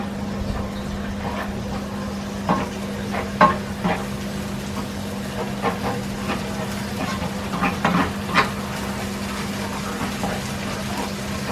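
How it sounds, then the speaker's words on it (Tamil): A spoon stirs melting cheese, butter and fresh milk in a nonstick pan for a vegetarian mozzarella burger, with soft irregular scrapes and taps over a low steady hum. "இப்போ நம்ம கொஞ்சம் அதை அப்படியே கிண்டிக்கிட்டு இருக்கிறோம்"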